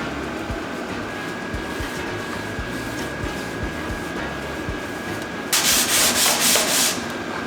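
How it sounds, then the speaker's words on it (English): Close, continuous scratchy rasp of sandpaper rubbed back and forth over a wooden board for a van backsplash, with a steady rhythmic stroke and a brighter, harsher patch of sanding toward the end. "always sand your board"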